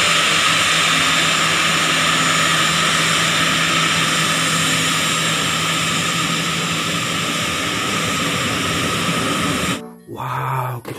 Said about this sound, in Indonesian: di sini ada pesawat Republik Indonesia